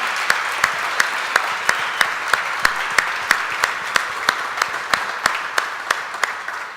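A church congregation at a worship service applauds, with sharp, evenly spaced claps standing out against a steady wash of applause.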